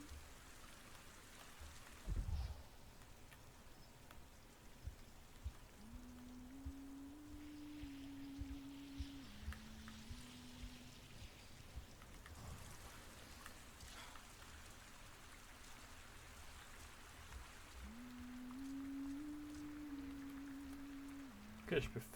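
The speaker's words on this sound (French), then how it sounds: "Oh merde, il pleut." Steady rain patter with a soft hiss in the background in the video game Avatar: Frontiers of Pandora, while a voice talks over it and brief tonal game sounds come and go.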